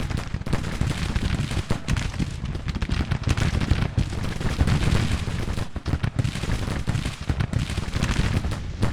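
Civil War battle in the strategy game Grand Tactician, with dense volleys of musket fire and booming artillery rolling continuously, layered crackling shots near and far with no break.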